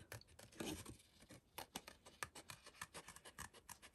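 Scissors snip and scrape through card in a quick series of crisp cuts, close and quiet, with no voices.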